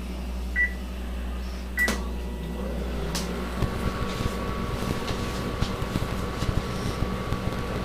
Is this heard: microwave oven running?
yes